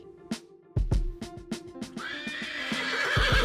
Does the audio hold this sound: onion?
no